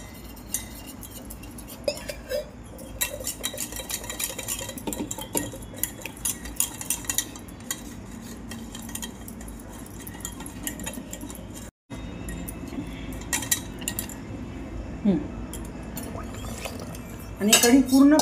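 A spoon scrapes and clinks against a pot as kadhi thickened with gram flour is stirred steadily, with irregular metallic taps over a low background hum.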